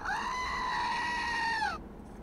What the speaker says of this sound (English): this little goat thing that when you press it, it does like that goat scream